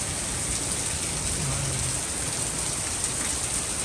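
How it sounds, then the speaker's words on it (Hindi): Heavy rain pours steadily, a dense continuous hiss of water drumming on surfaces, loud and unbroken throughout. "कितनी तेज बारिश हो रही है"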